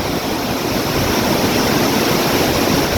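A narrow waterfall gushing fast in a hilly Kalimpong setting, heard as a dense, continuous broadband roar of rushing water, loud and close, with strong wind mixed in and no voices.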